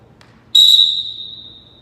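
Basketball referee's whistle in a gym, one sharp, loud blast that rings briefly and then fades out.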